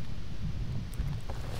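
Wind gusts buffet the microphone outdoors on the water while bass fishing in Maine, a steady low rumble of blustery noise close and loud, with no talking.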